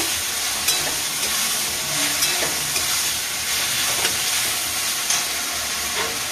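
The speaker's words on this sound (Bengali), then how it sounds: "একটু ভেজে নেব" Ingredients for motor ghugni fry in a pan with a constant close hiss and sizzle, broken by occasional crackles and small stirring clicks, with no voices.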